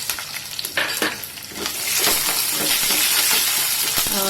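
Groundnuts dropped into a pan frying with onions, green chili and garlic, a rattling scatter of nuts and stirring at first, then a loud, steady hissing sizzle that fills the rest.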